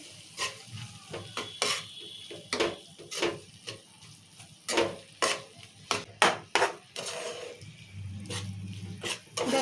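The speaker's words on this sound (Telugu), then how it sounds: "ఇప్పుడు సార్ మనం మంచిగా ఇట్లా కలుపుకున్నాము" A spoon scrapes and knocks around a pan as a tomato curry with salt and chili powder is stirred, the strokes coming in irregular rhythm over a soft, steady sizzle.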